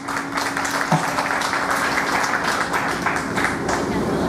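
A festival crowd outdoors gives a sustained burst of applause to vote for a song, steady clapping mixed with background chatter and voices.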